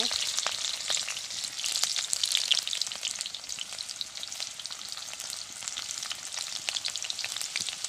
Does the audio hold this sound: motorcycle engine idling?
no